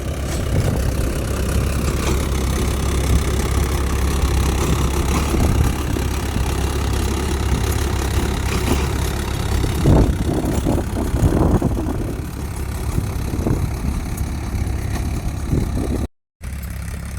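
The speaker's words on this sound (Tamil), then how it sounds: "இந்த பக்கத்தில் பார்த்தீங்கன்னா டிராக்டர் ஓட்டிகிட்ருக்கு" A tractor engine drones steadily in a hill-country farm field throughout, with wind buffeting the microphone and a few brief louder rumbles midway.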